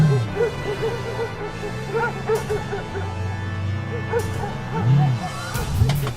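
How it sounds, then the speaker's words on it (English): A pack of hunting dogs yelps, whines and barks in a horror film scene, with rising and falling howl-like cries overlapping throughout, fairly loud against a low rumbling score. "What's that? Dogs. Herne's dogs."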